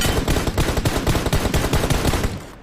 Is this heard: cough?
no